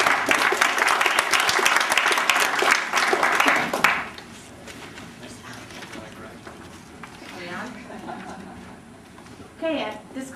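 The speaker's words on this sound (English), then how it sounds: "So give everybody a round of applause of encouragement." Applause in a city council chamber before a special session: dense, loud clapping for about four seconds, then a sudden drop to a quiet room with low murmur and shuffling.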